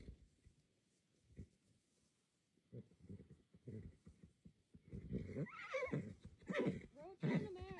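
A stallion whinnies and snorts near the end, fairly close, over quieter low rumbles and scattered handling sounds, with horse movement and an outdoor setting in the background.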